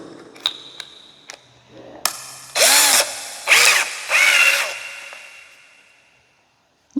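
A few short clicks, then a power drill with a magnetic bit whirs in three brief bursts as it drives a screw into a door, each spin stopping and restarting close by.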